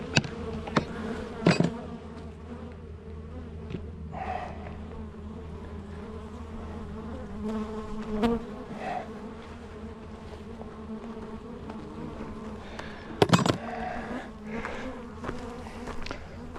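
Honeybees drone and buzz around an inspected hive, a continuous close swarm hum with individual bees whizzing past the microphone now and then.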